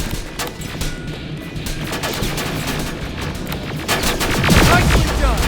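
A turret sprays rapid automatic fire in Terminator Resistance, its bursts crackling loud and close. The volley swells and grows heavier near the end.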